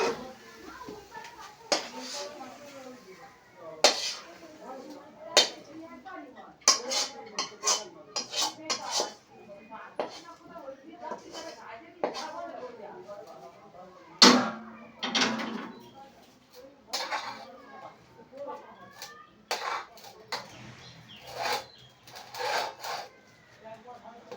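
Cooked carrot barfi is scraped from a pan onto a plate, giving repeated sharp metallic clinks and scrapes of utensil on cookware in irregular bursts, close and fairly loud.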